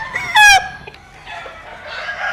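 A rooster crows once in a short, loud burst, out in open village farmland, followed by quieter outdoor ambience.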